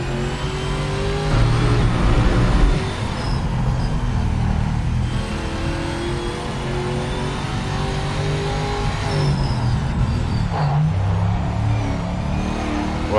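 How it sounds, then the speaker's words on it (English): A V8 race car engine in the video game Project Motor Racing roars loudly and continuously, revving up and down as it drives, with no talking. "Let's listen to the roar of this V8."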